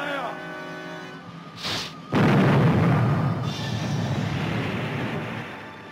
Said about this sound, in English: Number one gun, fire!